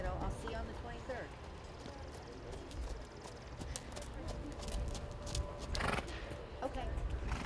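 Horses and ponies trot around a 4-H equitation show arena, hooves clopping irregularly with occasional snorts and whinnies, amid a busy outdoor background with distant voices.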